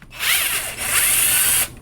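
A power tool on an LS3 whirs at high pitch to remove the bolts holding the fuel rail, running steadily for about a second and a half with a brief dip midway, close and loud.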